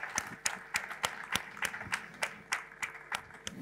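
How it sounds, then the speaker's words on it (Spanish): A small audience claps for a speaker at a conversation event, with about a dozen sharp claps in a sparse, steady rhythm that sound faint and somewhat distant. "Le damos un gran aplauso a Paulo."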